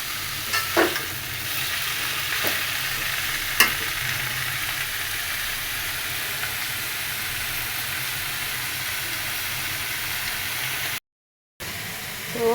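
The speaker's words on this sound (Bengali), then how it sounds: "আর লাউ শাক ভাজি হচ্ছে।" Bottle gourd greens (lau shak) frying in a pan, giving a steady close sizzling hiss with a few scraping stirs near the start and a brief dropout near the end.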